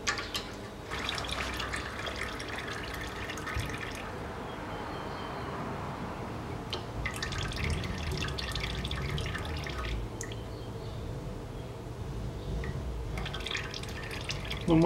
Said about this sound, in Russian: Пусть пока стекает до последней капельки.